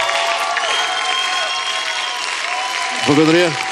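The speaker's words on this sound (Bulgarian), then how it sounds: "Аплодисменти за банда!" Dense, steady applause from a large crowd fills the whole stretch, with a voice or brief tonal sound rising briefly near the end.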